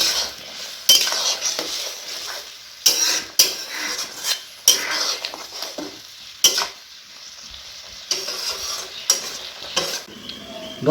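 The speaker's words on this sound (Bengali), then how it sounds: "ভালো করে মিশিয়ে নেব পোস্তর সঙ্গে" Ridge gourd and potatoes stirred with poppy seed paste in a metal pan, with repeated spoon scrapes and clinks in an irregular rhythm over a low background sizzle, close and fairly loud.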